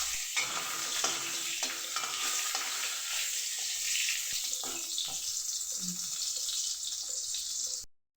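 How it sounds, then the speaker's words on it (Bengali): Dried green mango (amsi) fries in hot mustard oil, giving a steady bright sizzle while a utensil stirs with occasional scraping knocks, heard up close and with no voice. "তেলের মধ্যে আমসিগুলো দেওয়ার পরে আমসিগুলোকে নেড়েচেড়ে নেব।"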